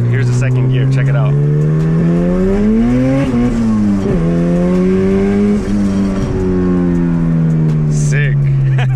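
Boosted Honda CRX pulling hard in second gear, a loud close engine note rising in pitch, dipping briefly, then climbing again before easing off.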